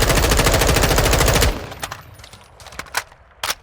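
Automatic gunfire in Modern Warfare II, a rapid sustained burst of rifle fire for about a second and a half, followed by sparse clicks and small impact sounds.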